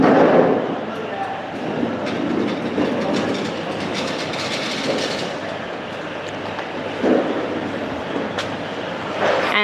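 An automatic liquid filling machine on a doypack pouch packing line runs nearby with a loud, steady mechanical clatter, rhythmic clicking and rattling throughout, and a few sharper knocks.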